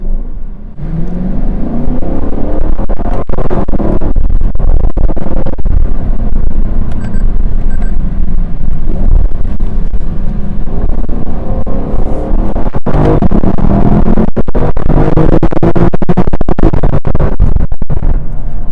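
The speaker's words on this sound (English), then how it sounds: "you can, again, bounce it off the rev limiter" 2025 Lexus LC 500 V8 in Sport Plus mode heard from the cabin, a loud continuous engine roar with a rough, repeatedly chopping note as it bounces off the rev limiter, plus road rumble throughout.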